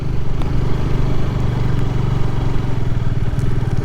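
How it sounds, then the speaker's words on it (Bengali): A Honda CBR motorcycle ridden across a wet sandbank inside the Padma river, its engine a loud, steady, close drone with no talking. "এখন আমি পদ্মা নদীর ভিতর দিয়ে বাইক চালাচ্ছি"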